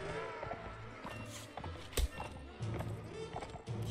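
Horse hooves clip-clop at a slow walk in the Mount and Blade Warband video game, a steady, quiet, soft clopping under game ambience.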